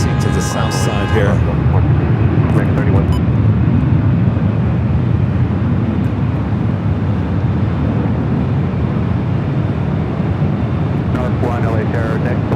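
Cessna Citation jet landing at LAX, a loud steady roar of engine and rushing air with wind buffeting, while a voice speaks over it.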